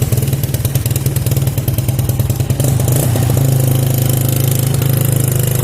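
A restored 1988 Kawasaki Mojave 110cc ATV engine runs close by, a steady rapid putter with a slightly uneven, lumpy rhythm from an imperfect carburetor, then settles into a smoother, continuous idle drone.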